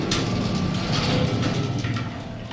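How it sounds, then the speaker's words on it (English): Manual gate of a vintage Montgomery hydraulic freight elevator in a civil engineering building sliding open, a steady, dense metallic rumble and rattle lasting a couple of seconds, close and fairly loud. "We're gonna open the gate."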